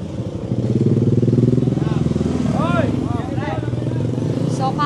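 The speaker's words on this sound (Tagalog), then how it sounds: "maraming mga motor, mukhang galing to dun sa Lagaslas" Several motorcycles on a road near Lagaslas in Pagsanjan, Laguna, pass close by with buzzing engines that rise and fade, and a voice talks over them.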